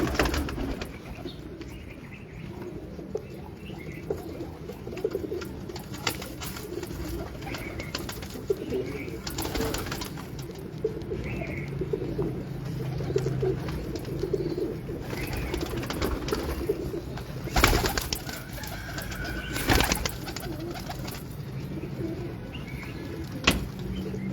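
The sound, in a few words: pigeons cooing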